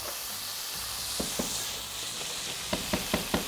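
Anchovy, onions and garlic frying in hot oil give a steady broadband sizzle, with a few sharp utensil taps and scrapes near the end.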